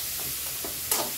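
Shallots, ginger, green chilli and garlic are sautéed in a pan for biryani, giving a brief, even, close sizzle with a light stirring scrape.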